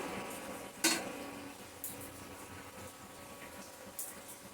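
A lid goes onto a pressure cooker holding jeera rice: one sharp metallic clank, then a few faint light taps, over a quiet low background hiss.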